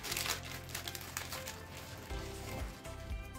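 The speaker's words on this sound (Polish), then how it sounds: "Delikatnie ściągamy papier." Baking paper is peeled off a freshly baked sponge cake, giving a near, continuous crinkling and soft tearing rustle that swells and fades over a few seconds, with no talk.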